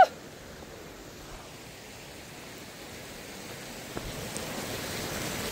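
Water crashes down steadily at Mailung waterfall, a broad unbroken rushing hiss that stays loud and even throughout, with no voices.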